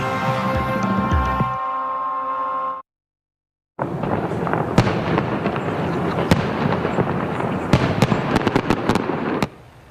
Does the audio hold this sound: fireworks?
yes